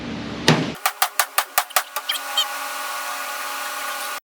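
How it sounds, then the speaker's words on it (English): A hammer knocks a dent in a car body panel against a dolly outdoors in a parking lot: about nine quick, evenly spaced metallic blows, close and sharp, fading toward the end, followed by a steady low hum. "you're going to be hammered against the dolly, but we're trying to actually knock that divot in"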